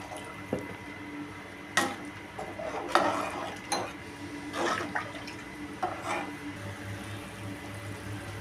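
Water poured into a cooking pot for rice, about three glasses' worth, comes as several separate splashy gushes and trickles spread over several seconds, close by with no talking.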